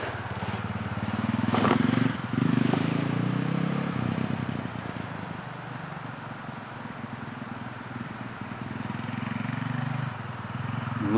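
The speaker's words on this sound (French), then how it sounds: "Une moto qui passe." A motorcycle passes outdoors, its engine drone swelling loud near the start and then holding as a steady rumble across the rest of the stretch, with faint voices in the background.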